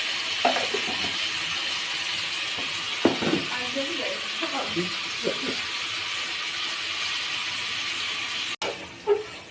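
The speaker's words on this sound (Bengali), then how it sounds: "গরম হয়ে গেছে, এবার অল্প করে সর্ষের তেল দিয়ে দিচ্ছি।" Mustard oil sizzles in a hot pan while khichuri is being cooked, a steady soft hiss running throughout under scattered clinks and a voice talking.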